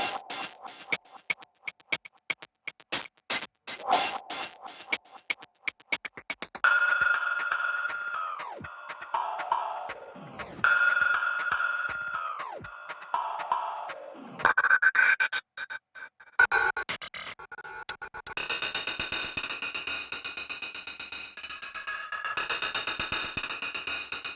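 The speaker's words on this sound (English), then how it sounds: "these are the high, more like the hi-hat type sounds. Everything's heavily processed" Heavily processed hi-hat style drum loops from the Hybrid Injection Kontakt library: tight ticking rhythmic patterns give way to metallic, pitched, glitchy textures and a bright, dense shimmering loop, all electronic and close with no voices.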